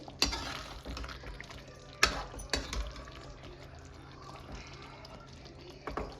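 A spoon scraping and stirring thick chicken masala gravy in oil in a pan, with soft sizzling underneath and a few sharp clanks of the utensil against the pan, close and quiet.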